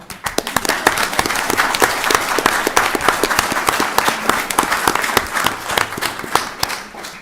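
Audience applause at a town board of selectmen meeting, a steady burst of many hands clapping for about seven seconds, fairly close and full, with no talk over it.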